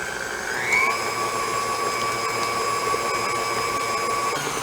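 An electric hand mixer beats chocolate cookie dough with two eggs for Andes candy cookies, giving a steady, close, high motor whine that holds at an even pitch throughout, with no talk over it.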